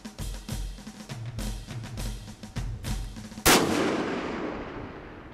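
Rifle shots fired at a target on an outdoor range ring out in a rapid series of sharp reports, followed by one much louder, closer blast that rings out and decays slowly.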